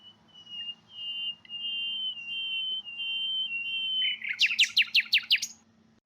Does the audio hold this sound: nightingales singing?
yes